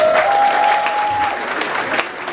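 An audience at an anniversary celebration applauds loudly and continuously. A sustained held tone from the end of the music fades under the clapping in the first second.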